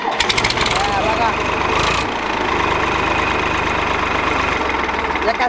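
A tractor engine, started with its self-starter, runs at a steady, throbbing idle close by. Voices talk over it, and a brief rattle is heard near the start.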